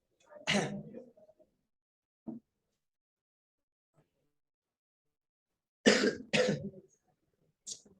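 A coughing fit: one harsh cough, a short throaty sound, then two sharp coughs in quick succession and a faint final one, with quiet gaps between.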